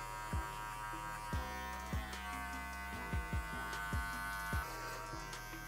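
An electric hair clipper fitted with a number 1 guard fading afro hair buzzes steadily up close, with its hum dipping in short thuds as the blade meets the head again and again.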